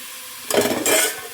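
Onions and tomato hit a hot pan for mushroom biryani, a sudden burst of sizzling and stirring after a quiet start, scraping and hissing briefly before settling to a softer fry.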